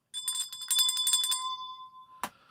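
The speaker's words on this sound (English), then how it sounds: "ringy-ding that bell." A notification bell sound effect rings out alone, a quick cluster of bright metallic dings with a long sustained tone that fades, ended by a single sharp tap.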